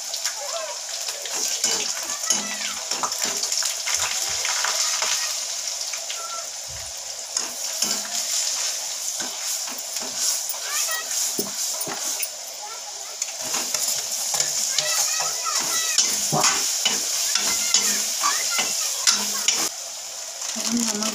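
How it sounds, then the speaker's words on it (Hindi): Onion, chili and masala fry in a pan with a dense, continuous sizzle. Stirring scrapes and clinks come up close throughout, with faint voices now and then beneath the frying. "इसी को हम डाल देंगे इसमें और डाल के भून लेंगे"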